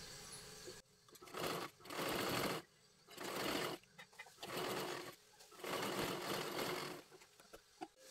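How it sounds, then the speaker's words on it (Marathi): A sewing machine double-stitches a puff sleeve onto a garment in several quiet, separate bursts of rapid mechanical whirring with short pauses between them. "परत एकदा आपल्याला डबल शिलाई मारून घ्यायची आहे"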